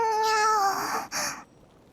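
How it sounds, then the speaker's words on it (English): A cat in the video game Infinity Nikki lets out one clear, drawn-out meow that falls in pitch, followed by a short, softer second call before it goes quiet. "Meow, meow, meow. Meow, meow, meow, meow."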